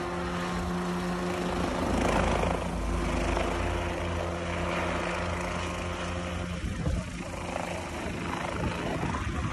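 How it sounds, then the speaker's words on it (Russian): A helicopter drones steadily nearby, its low rotor thrum and engine whine continuous throughout, with a brief dip and shift in tone partway. "Пилот вертолета увидел человека, который подметает листья, и решил ему помочь."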